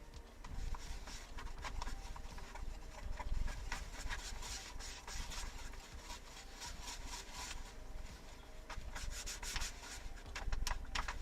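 Sticker residue being rubbed off the casing of a Compaq Presario F500 laptop, a close, continuous scrubbing and squeaking friction with repeated strokes and no speech.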